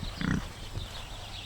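Pigs on a farm grunting at feeding time, a few low snorting grunts close by, the loudest early on, with quieter shuffling and livestock noise in between.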